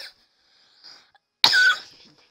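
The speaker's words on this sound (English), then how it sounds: "Once I say bees, I cough." A single sharp, close cough, preceded by faint breathy throat sounds, heard alone with no talking.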